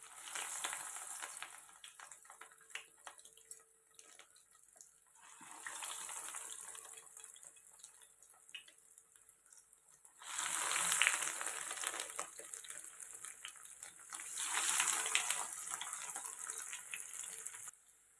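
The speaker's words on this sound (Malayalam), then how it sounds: "അതിലോട്ട് ഓരോ കട്ട്ലറ്റും ഇട്ട് ഫ്രൈ ചെയ്ത് എടുക്കാം." Chicken cutlets fry in hot oil, giving a faint, airy sizzle that comes in several swelling bursts and then eases back between them, with no talk.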